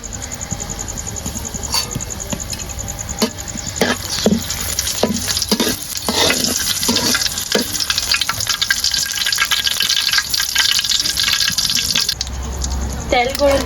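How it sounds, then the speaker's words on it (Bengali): Dried red chilies and bay leaves crackle and sizzle in hot white cooking oil in a pot, a steady close frying hiss with scattered pops and a few stirring knocks throughout. "তেল গরম হয়ে গেছে দিয়েছি শুকনো মরিচ আর তেজপাতা"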